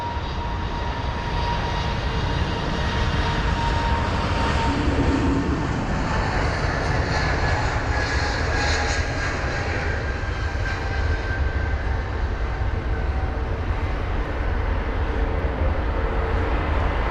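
A British Airways Airbus A320neo at Heathrow gives off a steady jet engine roar, loud and close, with a broad rushing hiss and a faint whine that holds throughout.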